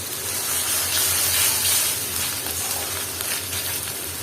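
Spices sizzle with onions and ginger-garlic paste in a pan for a Bangladeshi dried lotia fish curry with jackfruit seeds, a steady close hiss with faint stirring throughout, no talking.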